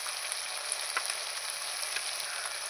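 Masala with salt and turmeric for a boal fish and potato curry sizzles and fries in a pan, a continuous hiss with faint clinks of stirring.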